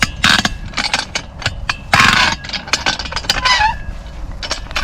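Chickens cluck and squawk loudly up close in quick, overlapping bursts, with one drawn-out call standing out among the flock's chatter.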